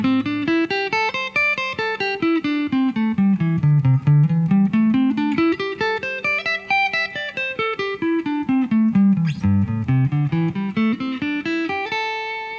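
Electric guitar running connected pentatonic scale patterns, single notes climbing and falling in steady even steps across the neck, a clear close-miked line with a sustained note at the end.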